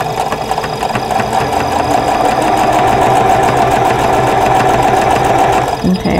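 Sewing machine stitching nested quilt block seams for a pinwheel block, a loud, close, continuous rapid mechanical whirring with a fast rhythmic chatter that runs steadily for about six seconds before slowing at the end.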